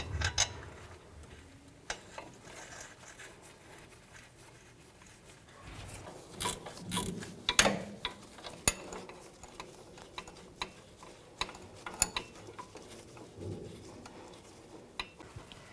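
A ratchet or wrench tightening the upper control arm nut on a 1999-07 Chevy Silverado 2500: irregular metallic clicks, ratcheting ticks and clanks of tools near the suspension, moderately close, no talking.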